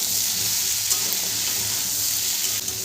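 Potato pieces frying in a pan with turmeric powder, a constant dense hiss of hot oil close up, steady throughout with no voices.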